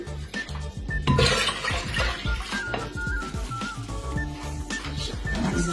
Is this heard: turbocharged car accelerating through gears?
no